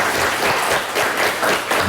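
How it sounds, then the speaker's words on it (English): Short, loud burst of applause at a televised high school quiz competition as the champions are honored, dense clapping filling under two seconds with no talk. "A round of applause for our champions."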